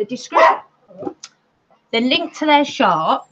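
A pet dog barks indoors. Someone speaks first, then the dog lets out a quick run of loud, close barks and yips near the end.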